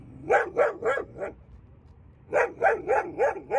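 A reactive Schnauzer barks at another dog in an outdoor training session: a close, loud burst of four sharp barks, a short pause, then five more in quick rhythm.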